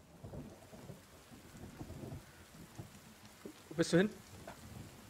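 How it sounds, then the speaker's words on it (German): During a thunderstorm in the survival video game The Forest, rain patters steadily while a sharp thunder crack hits near the end, with someone talking quietly under the storm. "Genau jetzt Gewitter perfekt."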